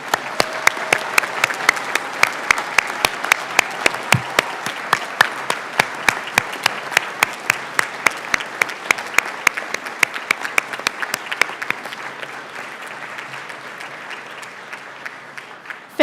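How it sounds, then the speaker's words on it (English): A ceremony audience applauds the dental class of 2024 at a white coat ceremony, with dense, sustained clapping from a large crowd that holds steady and then gradually thins out toward the end. "I know we clapped for you already, but we need to clap again."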